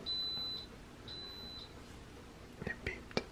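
Instant Pot electric pressure cooker emitting short high electronic beeps, a long tone then two brief ones, faint in a quiet kitchen, followed by soft clatter and handling noises.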